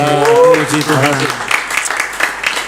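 Applause from an audience over the second half, broad dense clapping that follows a brief sung or spoken phrase at the start.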